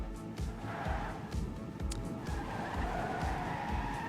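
A car speed-drifting through a section with a wall ride in a racing video game, its tyres skidding in a continuous squeal over a steady engine drone.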